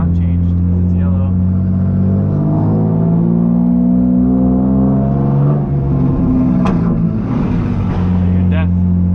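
A BMW M3 GTR engine revving in Need for Speed in Times Square, a loud sustained droning growl with layered harmonics that rises and falls, with short bursts of talking over it.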